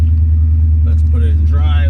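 A 1998 Aston Martin V8 Coupe idles after a cold start, a loud, deep steady engine rumble filling the clip, with someone talking over it near the end.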